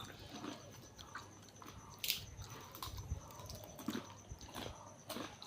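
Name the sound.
eating biscuits with tea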